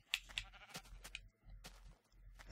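Sheep in the video game Minecraft give several short, quiet bleats in quick succession, choppy and close, with brief gaps between the calls.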